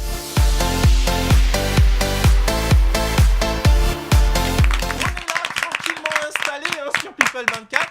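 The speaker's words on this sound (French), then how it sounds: "Immédiatement un petit jingle et nous continuons nos débats." A short TV show jingle plays loud and punchy, with regular thumping beats and bright tones that give way to a busier, brighter flourish near the end.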